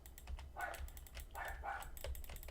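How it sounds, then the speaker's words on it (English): Dog barking from another room in a home, a few short muffled barks mixed with clattering keyboard typing, fairly faint and distant. "My dog is barking."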